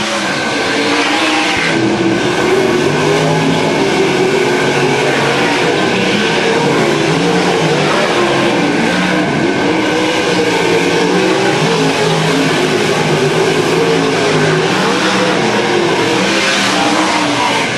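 Race cars roar around a short speedway oval, a dense, continuous engine drone with rising and falling passes, loud and steady for the whole stretch with no talk.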